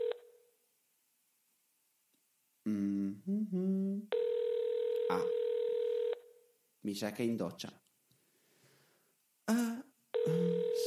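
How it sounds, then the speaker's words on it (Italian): Outgoing phone call: a steady ringback tone sounds in long repeated bursts, alternating with someone speaking Italian in between the rings, clear and close. "Il telefono suona."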